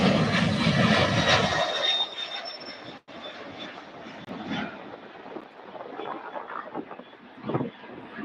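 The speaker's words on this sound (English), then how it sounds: "And there we go, the UPS Boeing 767-300." A UPS Boeing 767-300 jet takes off at Louisville airport, a loud broadband engine roar with high whine at the start that gradually fades and rumbles on as the aircraft departs.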